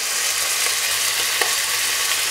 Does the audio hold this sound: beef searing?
yes